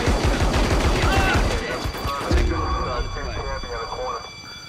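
Loud, dense gunfire from the Reservoir Dogs PS2 video game, with rapid volleys that thin out into scattered shots and a lingering ringing tail, and some voices mixed in.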